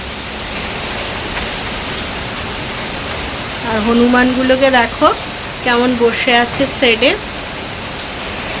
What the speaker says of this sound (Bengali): কারণ জোরে পড়ছে বৃষ্টিটা, দেখবে দেখো জোরেই পড়ছে বৃষ্টিটা